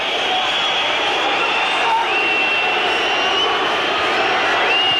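A football crowd of about 13,000 Welsh fans at Wrexham versus Arsenal in 1992, whistling steadily for the final whistle, a continuous shrill wash of whistles over crowd roar, with a commentator speaking over it.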